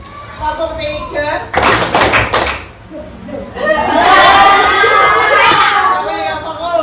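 Children in a classroom clap together in a short cluster of sharp claps, followed by a swell of excited group chatter and voices.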